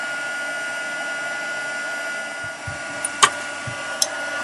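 A heat tool warms embossing powder with a steady, close whirring blow, and a few light clicks and taps occur near the end.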